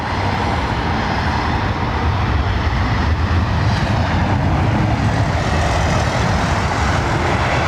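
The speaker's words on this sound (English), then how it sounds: "Sort of hollow sound, isn't it? Massive engines on it." Airbus Neo airliner engines at Heathrow give a continuous, loud, broad hollow roar that holds steady without a break, heard alone with no talking over it.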